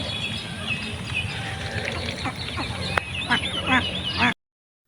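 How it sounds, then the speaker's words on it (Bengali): Ducks going into water honk and quack nearby over a steady background hum, with a few louder calls near the end before it cuts off. "হাঁস পানিতে নামছে তাও তাদের কোনো খবর নেই"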